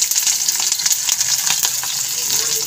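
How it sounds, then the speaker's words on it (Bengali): Chopped onion sizzles and spits in hot oil, a steady close crackle with scattered sharper pops and occasional stirring clicks. "এবার আমি যে কুচানো পেঁয়াজটা ছিল সেটা আমি তেলের মধ্যে দিয়ে দেবো"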